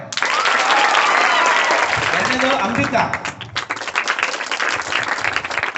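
Applause from a school assembly greeting announced student election winners, a dense burst of many hands clapping near and loud for a few seconds, fading as a voice announces names over the thinning claps.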